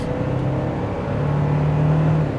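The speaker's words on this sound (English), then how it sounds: "You can hear the engine" A 2024 Toyota Tacoma TRD Off Road pickup engine, in rear-wheel drive, hums steadily from inside the cab, its droning tone rising slightly in pitch as it accelerates.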